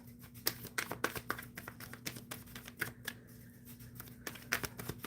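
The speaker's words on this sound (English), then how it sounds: "Okay, shuffling for Nicholas." Close, quiet riffling and soft snapping of a deck of tarot cards being shuffled, in quick irregular bursts over a low steady hum.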